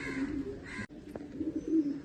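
A pigeon of a split-beak breed gives low, rolling coos near at hand, the calls continuing in a loose rhythm over a light background hiss, with no voices.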